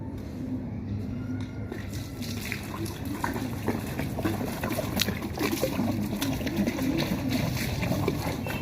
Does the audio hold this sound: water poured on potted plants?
yes